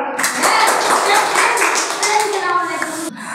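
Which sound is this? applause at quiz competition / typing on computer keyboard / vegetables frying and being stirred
applause at quiz competition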